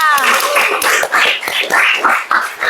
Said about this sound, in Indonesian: Tepuk tangan dong buat Rafa